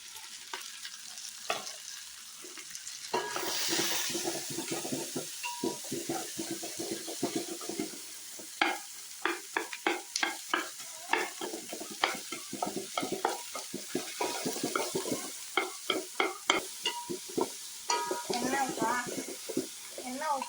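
Onions fry with spices in a pot for mutton biryani, a steady sizzle broken by repeated rhythmic scraping of a ladle stirring close by, with a person talking intermittently over it.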